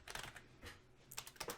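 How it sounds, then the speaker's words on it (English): Quiet clusters of key clicks on a computer keyboard, a few quick bursts of typing separated by short pauses, close but faint. "I'm typing scissor in a rhyming dictionary right now."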